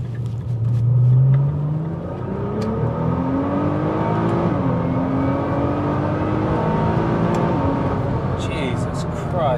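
A 2014 Nissan GT-R accelerating hard through the gears, engine pitch climbing steadily and dropping at a shift before rising again, loud and steady inside the cabin, with a driver talking over it.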